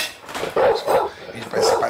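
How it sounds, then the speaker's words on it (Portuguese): A dog barks several times in quick succession in a home kitchen during cooking, with close, sharp barks separated by short gaps. "O cachorro fica no enchendo o saco quando a gente tá gravando."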